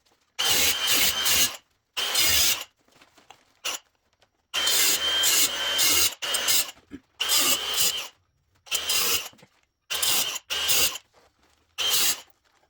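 Metal of a factory steel bumper on a 2024 Jeep Wrangler Rubicon JL being cut with a power tool, several loud harsh bursts of grinding and sawing broken by short pauses, close and with no talk.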